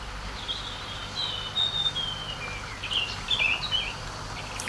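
Birds begin singing at dawn in quiet countryside, a few thin chirps and short trills rising faintly from a distance over a low hushed background, sparse and intermittent with no speech.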